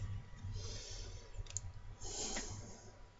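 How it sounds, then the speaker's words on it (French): An old Yu-Gi-Oh booster pack is opened with faint crinkling and tearing of the foil wrapper in a few short bursts over a soft, quiet background, with no speech. "On va s'ouvrir ce premier booster"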